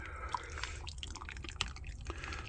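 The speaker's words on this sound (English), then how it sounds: "Looks like this one's going to take a little while to run through the filter." Hot water drips through a coffee filter of lighter roast coffee at a campground, with soft scattered drips falling irregularly and close against a quiet outdoor background.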